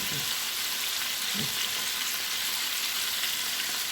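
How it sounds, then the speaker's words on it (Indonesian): Oil sizzles and crackles steadily in a pan as potato fritters fry, a dense hissing with a couple of soft low bumps. "Saya lagi goreng perkedel seperti ini, kentang nih gitu."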